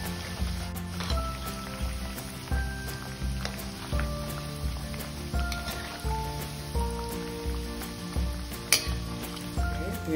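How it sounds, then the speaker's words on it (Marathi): Kothimbir vadi, coriander fritters, frying in hot oil over low heat, a steady sizzle with soft rhythmic bubbling bursts, heard under background music. "असे अशा मी सगळ्या वड्या तळून घेते"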